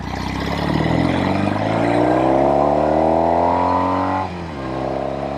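A Norton Commando 850 Roadster motorcycle engine revs hard and close, pitch climbing steadily before dropping sharply near the end, then rising again, loud and continuous with no talk over it.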